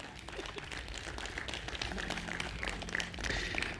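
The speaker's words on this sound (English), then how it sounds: "So big round of applause for our 5 people." Conference audience applauding panelists at the close of an AI event, a dense steady patter of many hands clapping at moderate distance, filling the hall without talk.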